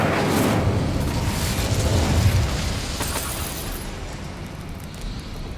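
A fire spell blast in the game Hogwarts Legacy, a loud roaring whoosh of flame that rumbles broadly and slowly fades over several seconds.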